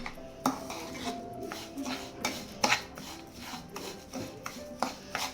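A spoon stirs milk pongal in a pot, scraping and knocking against the metal sides in irregular strokes with a few sharper clinks, close and moderately loud, with no voices.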